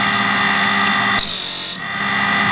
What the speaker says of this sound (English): one cycle of the grinder will sharpen a blade adequately